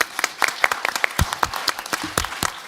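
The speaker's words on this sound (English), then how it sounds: "you accompany me with a round of applause for our beautiful, wonderful panelists?" An audience at a panel discussion on peace and health claps for the panelists in a brief burst of dense, close applause.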